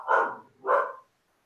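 A dog barks twice in quick succession, loud and close, the two barks separated by a short pause before silence returns.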